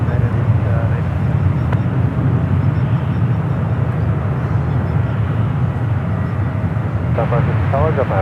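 A United airliner thunders down runway 28 left at San Francisco International on takeoff, a loud steady jet roar under radio chatter from the tower.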